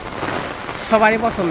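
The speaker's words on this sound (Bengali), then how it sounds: "তো আশা করি বৃষ্টিটা ভালো লাগবে" Steady rain pours over a Bangladeshi village, a broad, continuous patter and hiss, while someone speaks briefly over it near the end.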